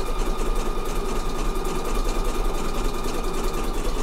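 A sewing machine stitching lace at its maximum speed, a steady, fast mechanical whir with rapid needle clatter running continuously and close, with no talking.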